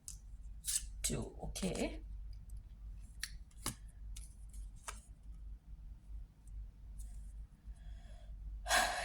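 Tarot cards are pulled from the middle of a deck with quick, close papery swishes and flicks in short bursts, between quiet pauses, with a person speaking softly.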